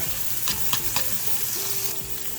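Shallots and garlic fry in a hot pan with a steady, close sizzle, and a few sharp clicks of stirring cut through the hiss.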